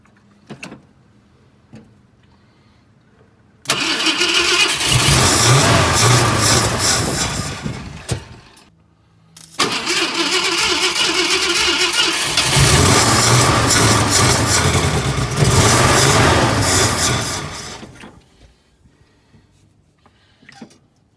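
A 1966 Ford F100 pickup's engine is being started for the first time in 17 years. Two long, loud stretches of rough cranking or running are separated by a brief pause, with quiet before and after.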